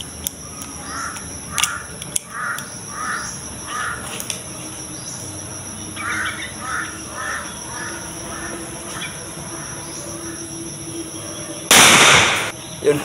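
Old service ammunition is test-fired at an outdoor firing range, giving a series of sharp cracks and pops against a background of birds and insects, capped by one loud, longer burst near the end.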